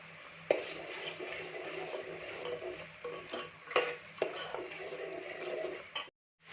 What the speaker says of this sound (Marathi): चांगलं हलवून घ्यायचं आहे.